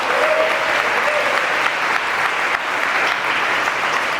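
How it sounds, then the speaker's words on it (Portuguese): Church congregation giving loud sustained applause during an evening service, a thick continuous roar of many hands clapping that fills the room from start to finish, with a faint voice early on. "Dê um forte aplauso a ele nessa noite"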